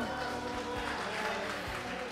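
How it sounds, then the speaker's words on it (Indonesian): Audience applause at the closing session of a 2024 retreat, a steady wash of clapping from a large group that holds evenly throughout, moderately loud with a low hum underneath. "tepuk tangan buat kita semua"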